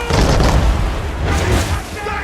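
Ship cannons boom repeatedly in a naval battle in the video game Assassin's Creed III, loud heavy blasts rolling under shouted commands from the crew.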